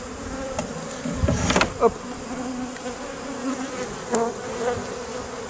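Honeybees buzzing around an opened beehive at close range, a dense steady drone with a few sharper passes and knocks from handling the hive, plus a brief spoken word.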